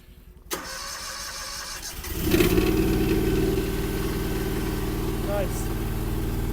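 In snow and freezing cold, an old Chinese 450 engine with icicles on it gives a sharp crank, struggles briefly, then catches and roars up. It settles into a loud, steady, rough idle that carries on to the end.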